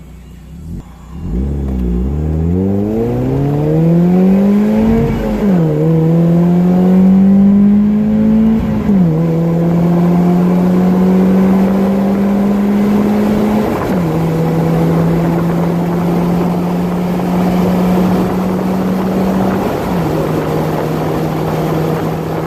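Mazda NB Miata fitted with a Roadster Sport 3 exhaust pulls hard through several gears onto an interstate, its loud engine note climbing steadily with a brief dip at each upshift, heard close up from inside the car.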